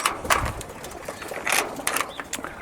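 Caged quail huddled together give soft, brief chirps and calls in a few scattered bursts over a low background hum.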